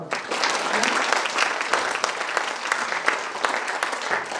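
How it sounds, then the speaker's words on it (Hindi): A roomful of people at a Brahma Kumaris spiritual gathering applauds steadily for about four seconds, a dense, even wash of many hands clapping at once with no voices over it. "अपने लिए ताली बजाओ"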